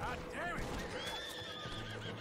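A horse in a video game gives a clear, rising and falling whinny, with hoof clip-clops underneath and a player talking over the game sound.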